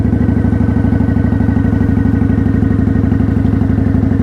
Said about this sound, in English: I have no clutch, a little gas, just a little throttle. And I'm just gonna go around the parking lot.